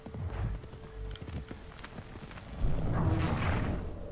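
A slow horse in Assassin's Creed 3 clip-clops along with soft, quiet hoof thuds and a few light swooshes, growing a little louder and busier toward the end.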